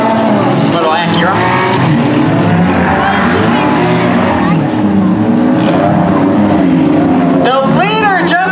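Figure 8 race cars roar through a heat, loud engines revving and droning continuously with whining pitch sweeps as cars pass, under an announcer talking over the noise.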